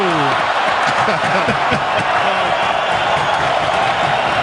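Montreal hockey fans in an arena roar in a steady, broad crowd cheer, heard beneath a commentator's voice.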